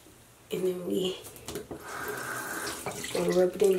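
Tap water runs into a sink in a home bathroom, a steady soft splashing stream heard close up, with a voice speaking briefly at the start and end.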